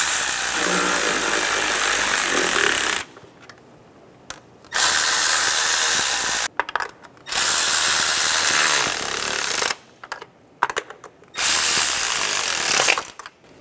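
A power tool tightens the valve cover bolts on a 2007-2013 Mini Cooper, running in several loud, close bursts of a few seconds each, separated by short pauses with faint clicks.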